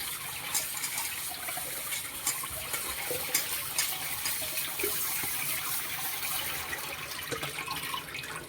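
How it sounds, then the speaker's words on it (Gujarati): Amaranth leaves being rubbed and swished in water, with continuous splashing and sloshing, close by and moderately loud, no voices. "આવી રીતે આપણે પાનને ચોળીને ધોશું"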